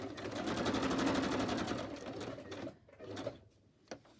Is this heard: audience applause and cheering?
no